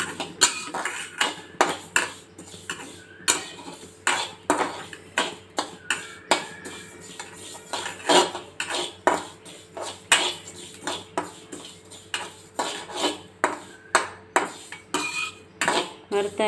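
Ingredients for a powder dry-roasting in a pan, a metal spatula scraping and clinking against it in a steady, repeated rhythm of sharp knocks throughout, close and fairly loud, no voices.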